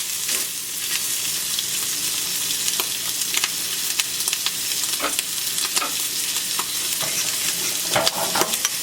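Pasta sauce heating in a pan, a steady close sizzle and bubbling crackle with scattered stirring scrapes throughout, no talking.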